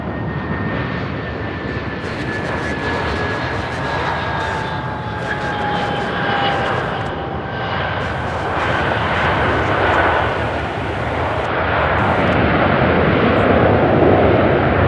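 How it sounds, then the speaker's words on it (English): An Airbus A321 arriving at Charlotte Douglas airport from Windsor Locks gives a loud, steady jet roar with a whining engine tone that holds and swells slightly toward the end, close by with no talking. "Next up, we have an A321 arriving here from Windsor Locks."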